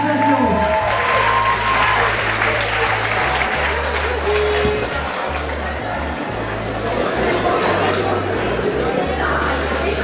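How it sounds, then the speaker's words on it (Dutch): Crowd of students and onlookers at a Glass House charity event at Zwin College in Oostburg applauds and cheers steadily throughout, with loud chatter, shouting and a low rhythmic musical thump mixed into the dense noise. "geef ze een David applaus"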